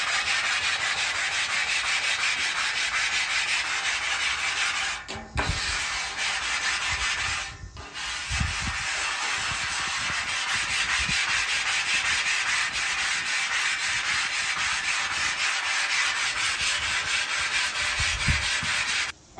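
Grill brick scrubbing a switched-off flat top griddle, a steady abrasive rasping that continues for about twenty seconds with only a couple of brief pauses.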